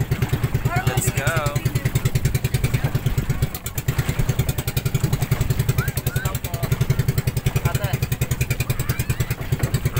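A motorboat (bangka) engine runs steadily nearby, its loud, even, pulsing chug going for about ten seconds, with voices faintly mixed in.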